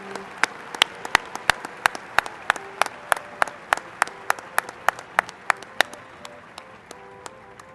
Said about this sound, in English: Could we please have a round of applause for all our Bachelor of Science graduates in Animal Science?